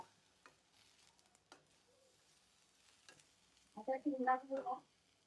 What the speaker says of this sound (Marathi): यात आपण रेड आणि येल्लो पेपर पण टाकून घेऊया. आणि याला सतत हलवत राहावं लागतं